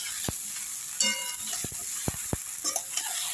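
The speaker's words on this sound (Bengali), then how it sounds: "একটুখানি মোটামুটি নেড়ে নিলেই হবে" A jujube pickle being stirred in a pan. A few sharp scrapes and clinks of the spoon sound against a faint sizzling background.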